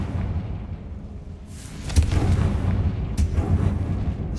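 A fiery Confringo spell blast in Hogwarts Legacy bursts out with a deep booming thump, followed by a second sharp crack and rumbling, moderately loud over a low background drone.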